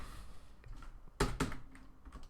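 Scattered keystrokes on a computer keyboard, a few soft clicks followed by a pair of loud, sharp taps near the middle, then lighter clicks trailing off, close and without talk.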